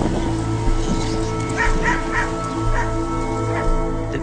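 Two leashed greyhounds barking and whimpering close by, a steady run of yips and whines with short barks breaking through at intervals.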